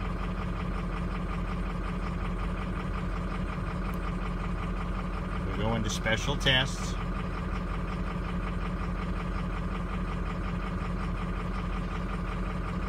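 A 2004 Ford F-250 with a 6.0-liter diesel, suspected bent rod and failing injector control module, idles with a steady low rumble throughout. Someone speaks briefly midway, and a few faint beeps sound over the engine.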